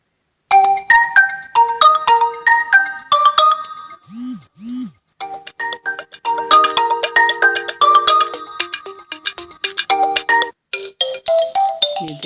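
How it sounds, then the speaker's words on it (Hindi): A melodic ringtone playing from an Oppo A31 phone, a series of bright chiming tunes in quick succession, loud and close, several short melodies previewed one after another with brief gaps and no talking. "इसमें से आप कोई सा भी रिंगटोन सेट कर सकते हैं।"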